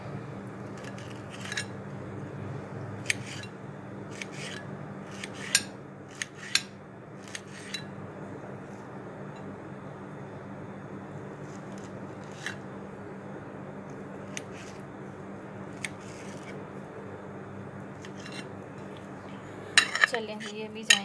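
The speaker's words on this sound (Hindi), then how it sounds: "ऐसे ही जो बाकी क्यूब्स हैं वो भी कट कर लूँगी।" Fruit being cut into small cubes for a fruit salad, a knife tapping sharply against a cutting board in scattered, irregular clicks over a low steady background hum, with a cluster of quicker taps near the end.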